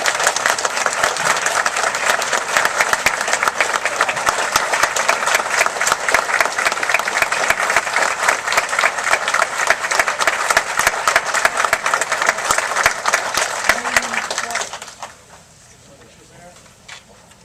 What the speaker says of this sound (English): listen to this big round of applause